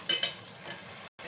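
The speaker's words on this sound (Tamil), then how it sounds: "இதோடு சேர்த்து நல்லா கிளறி விடுங்க. சும்மா லைட்டாக ஒரு 2 நிமிஷம் கிளறினா போதும்." Masala being stirred as it fries in oil in a pan for Kerala-style fish curry, with a couple of brief scraping clinks at the start over a steady low sizzle, close and fairly quiet, cut by a short gap near the end.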